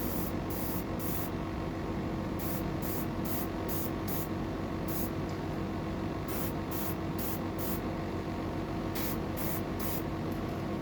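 An airbrush spraying a coat of paint on a fishing lure makes a constant close hiss, broken by quick bright bursts of spray in uneven clusters.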